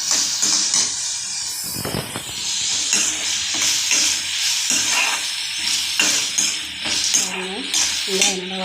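Onions sautéing in a pan for a mint and coriander chutney, with garlic added: a steady close hiss and sizzle with intermittent scraping and stirring clinks of a utensil against the pan.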